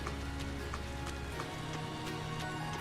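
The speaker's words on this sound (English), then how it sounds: "I pity anyone unlucky enough to be caught out in this downpour" Steady rain pours down in the video game Trails of Cold Steel, a constant close hiss of a downpour with soft tonal game music sounding faintly underneath throughout.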